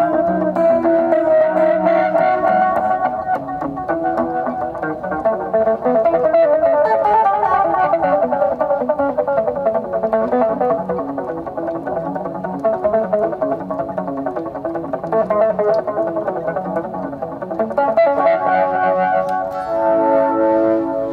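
Electric guitar with a wah pedal parked halfway, giving a harmonically rich, overtone-heavy tone with delay effects; sustained chords and melodic lines ring continuously and loudly for the whole stretch, with no talking.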